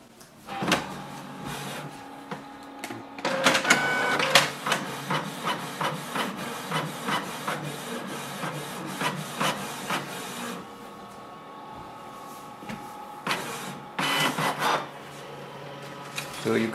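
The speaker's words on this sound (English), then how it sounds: "So this way you can print on the two sides of a page with this printer." A Canon Pixma TS3429 inkjet printer runs a double-sided copy job, giving off a sustained mechanical whir with repeated rasping, clicking paper-feed strokes and short pauses. The noise stays close and moderately loud, with no talk over it.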